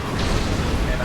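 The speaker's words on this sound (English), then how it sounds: "Torpedoes." Torpedoes firing and exploding in the space combat game Star Trek Online: a dense, continuous rumbling roar of blasts that holds steady and loud throughout the short burst.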